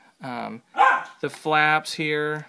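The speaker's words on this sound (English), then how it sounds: "You can hear my dog bark in the background" A dog barks in short repeated yips and bow-wows in the background while someone talks about a Hot Toys Iron Man Mark VI figure, the barks rising clearly between his words.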